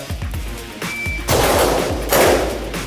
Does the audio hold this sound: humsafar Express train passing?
no